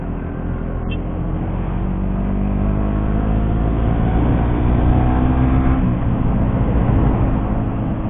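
A manual-clutch motorcycle accelerating uphill from the bottom of a slope past speed bumps and bends, its engine droning steady and close with a rising pitch as the throttle opens, wind noise throughout and no talk.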